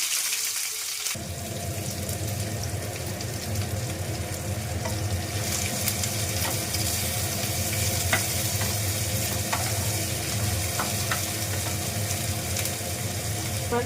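Chopped onions drop into hot mustard oil tempered with cumin and fry with a loud, steady sizzle after a brief quiet start. Faint stirring scrapes sound under the constant hiss, and no one speaks.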